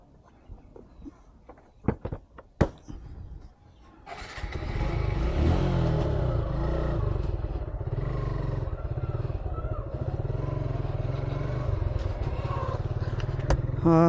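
A used motorcycle with about 10,035 km on it starts up after a few clicks and knocks, then idles and runs steadily and loudly nearby. The engine note holds constant for around ten seconds with no talking.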